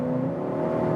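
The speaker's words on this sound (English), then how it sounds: "this is a sound actuator." A 2021 Skoda Octavia vRS iV plug-in hybrid with a 1.4-litre turbo petrol engine, its synthetic sound actuator playing a steady, humming engine drone for about a second, close and fairly loud with no talk.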